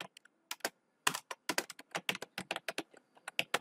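Rapid, irregular keystrokes on a computer keyboard while typing a short greeting into a login form, crisp clicks in quick bursts with brief pauses, close and alone with no talk.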